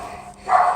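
A neighbor's dog in an apartment gives a single short bark, muffled as though heard through a wall, after a quiet moment.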